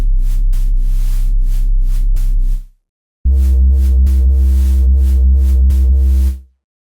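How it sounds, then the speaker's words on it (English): Drum and bass synthesizer bass patch with waveform modulation, FM modulation and white noise, played as two loud sustained phrases of rapid rhythmic pulses separated by a short gap, ending abruptly. "So you can hear the waveform modulation and also the FM modulation and the noise."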